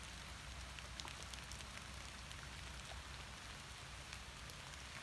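Steady night rain falls continuously in Surat Thani, southern Thailand, a dense, even hiss of drops pattering on surfaces with no voices.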